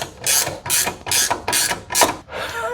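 Ratchet spanner winding up a roof-mounted winch in a workshop, five rhythmic clicking bursts in quick succession, close and fairly loud, with no talking.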